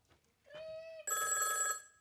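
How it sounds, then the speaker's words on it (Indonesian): A mobile phone rings close by with a shrill electronic tone, one ringing note followed by a brighter, buzzier warbling burst, and nothing else heard alongside it. "Telepon, Bos. Handphone, Bos."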